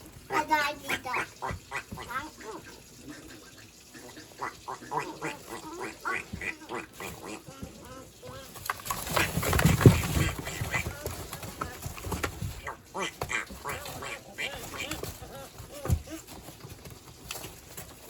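Ducks at a homestead quack repeatedly and close by, with a burst of louder activity in the middle. People talk throughout.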